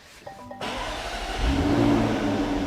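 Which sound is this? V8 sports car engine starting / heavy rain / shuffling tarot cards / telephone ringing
V8 sports car engine starting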